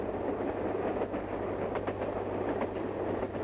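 A train rolling along railway tracks, a steady low rumble with faint rhythmic clickety-clack of wheels over rail joints, continuous and moderately distant, no voices.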